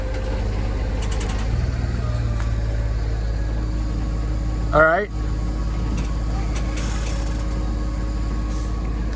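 A single short squealing creak from a pulley on a Jayco fifth wheel pin box, rising in pitch over a steady low engine rumble, with people talking nearby.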